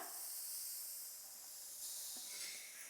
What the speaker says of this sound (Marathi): तवा तापलाय तव्यात मुळा टाकूया